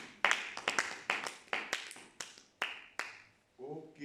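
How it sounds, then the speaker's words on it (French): A church congregation applauds in about ten sharp, evenly spaced claps with a short echo, then a voice begins speaking. "Applaudissons le Seigneur"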